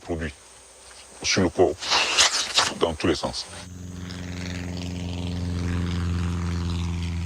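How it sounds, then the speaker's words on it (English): A crop duster spraying a plantation drones overhead as a steady, rising propeller engine hum that grows louder and fills the second half, after a stretch where a person talks over faint insect-like buzzing. "when the plane passes overhead, everyone gets a load on their body"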